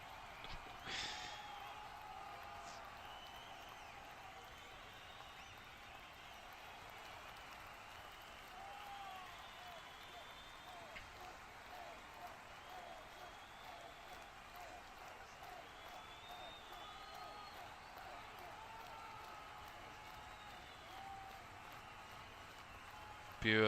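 A stadium crowd at a South Africa versus Canada World Cup 2026 match roars and cheers in a steady, distant wash of noise as a Mexican wave travels around the stands, sustained and even throughout.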